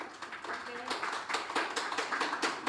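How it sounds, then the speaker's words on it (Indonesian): A school audience at a regional academic championship final claps for the winning high school team, a steady patter of hands carrying on with voices mixed in. "Boleh tepuk tangan teman-teman."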